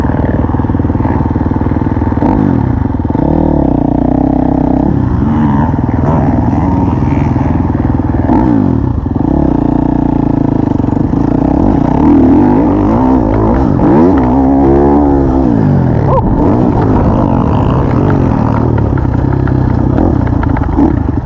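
A motorcycle accelerates hard and shifts up through second and third gear on the run-up to a 100-foot tabletop jump, the loud engine rising and dropping in pitch with each gearchange, close and continuous.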